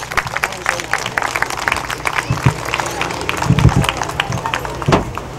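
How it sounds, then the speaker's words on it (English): Scattered clapping rises from a crowd at a cattle show steer class, mixed with murmuring voices and some brief shouts over the background. "Let's give these exhibitors a round of applause for a good set of steers."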